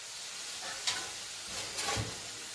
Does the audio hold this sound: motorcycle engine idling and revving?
no